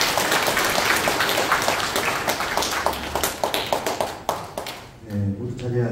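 Attendees at a Pocheon civic movement members' convention clap in a loud, brisk burst that tapers off, and a voice begins speaking as it ends.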